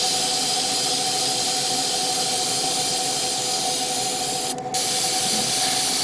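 Airbrush spraying paint onto a Gundam model kit, driven by a compressor; a loud, steady, close hiss with a constant hum underneath and a brief interruption near the end, no talk.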